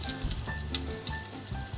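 Food frying in hot fat in an Armenian kitchen gives a close, crackling sizzle with sharp spitting pops scattered over a continuous bubbling hiss.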